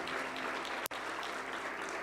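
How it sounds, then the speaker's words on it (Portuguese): A church congregation at a family communion service claps together in a steady, dense round of applause, heard from within the hall, with one brief drop-out partway through. "Dá uma salva de palmas"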